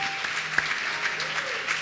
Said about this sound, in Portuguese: Vamos aplaudir Jesus porque Ele é demais